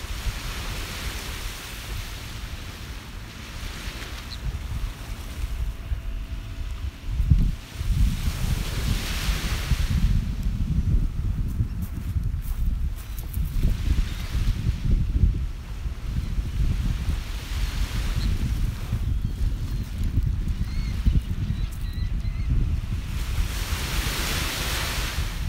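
Waves washing onto a Gulf of Mexico beach on the southwest Florida coast between Naples and Bonita Springs, steady surf with rhythmic swells and breaking rushes every few seconds, buffeted by wind noise, no talking.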